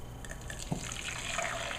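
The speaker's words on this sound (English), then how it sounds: "I like to pour it into a measuring cup" Hot cream for strawberry crème brûlée pours from a pan into a measuring cup in a kitchen, a soft continuous liquid stream that builds slightly over about two seconds, heard alone.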